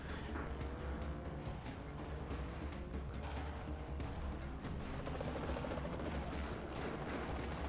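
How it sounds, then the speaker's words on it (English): Machine gun helicopters in the video game Renegade Ops, with dense, continuous rotor roar and rattling gunfire bursts that stay loud and close throughout. "the helicopters don't get any more serious than those machine gun choppers"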